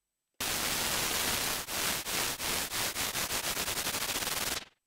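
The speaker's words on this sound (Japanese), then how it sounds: "このアンプ音量を LFO の2で揺らしたので、音量が大きくなったり小さくなったりっていうのを繰り返してるんですよ。" Synthesizer noise, a broad hiss whose amplifier volume is swept by an LFO, starts as a steady loud wash, then pulses in rhythmic swells that quicken into rapid fluttering before cutting off abruptly.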